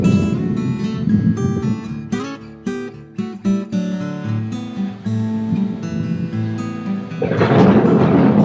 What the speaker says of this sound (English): there'll be a thunderstorm with rain